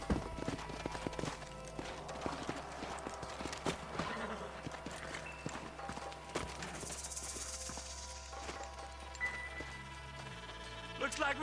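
Horses' hooves clip-clopping in the Red Dead Redemption video game, a steady run of hoofbeats under layered music and ambience, with a brief rising whinny-like sound partway through.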